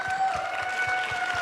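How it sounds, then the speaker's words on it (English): Steady applause from a pageant audience, a dense, even patter of many hands clapping in a large hall, with a sustained tone running underneath. "So round of applause for those ladies"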